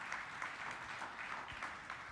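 A church congregation applauding during a sermon, faint and distant rhythmic clapping that swells in waves under a roomy, reverberant space.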